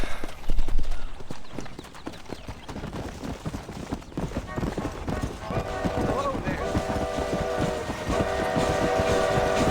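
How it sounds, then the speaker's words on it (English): A train rolling past in the video game Red Dead Redemption, with rhythmic clattering wheels and a sustained horn-like tone rising in the second half, loud and close, while someone talks over it. "Train!"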